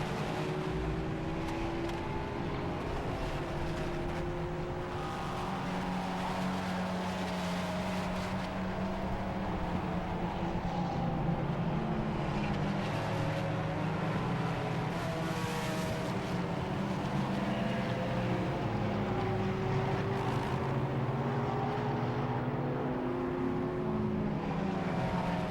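Porsche Cayman race cars running in an endurance race at Silverstone, a steady drone of several engines at a distance, with pitch shifting as the cars pass.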